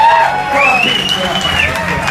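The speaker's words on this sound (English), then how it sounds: "Have a big round of applause for what's her face here." A crowd at a sideshow human blockhead act applauds and cheers for the performer, with whoops and a rising whistle-like shout over a busy wash of clapping and voices.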